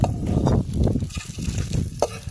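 Onions frying in oil in a pan while being stirred for egg biryani, giving a steady close sizzle with repeated scraping stir strokes throughout, no voices.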